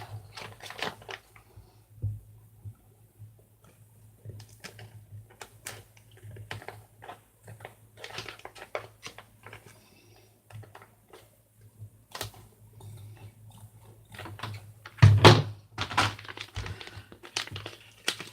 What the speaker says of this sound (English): I'm going to cut one more row off.